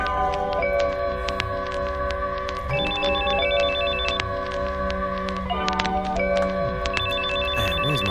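A telephone rings repeatedly in long, loud, evenly spaced bursts over a sustained musical backing, with no talk.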